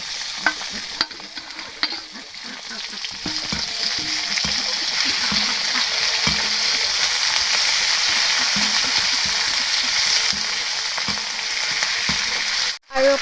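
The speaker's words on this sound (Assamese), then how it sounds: "এই হাঁহ মাংসখিনি দি দিছোঁ।" Duck meat frying in hot oil with spices and ginger-garlic paste, a dense continuous sizzle with repeated scraping as it is stirred in the pan, close and loud throughout.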